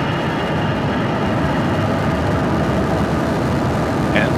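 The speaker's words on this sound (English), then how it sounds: "ignition, and liftoff." A SpaceX Falcon 9 rocket's engines ignite and lift off carrying a Dragon cargo craft to the International Space Station, a loud, constant broadband roar that stays dense and unbroken throughout.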